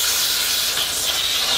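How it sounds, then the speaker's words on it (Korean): A steam cleaner blasts a continuous jet of hot steam at a marble dining table, a steady loud hiss that holds without a break and with no voices. "스팀이 이제 높은 열로 확 나가면서 이제 싹 이렇게 지져주니까"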